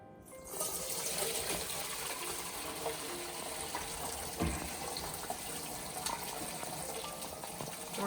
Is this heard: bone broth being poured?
yes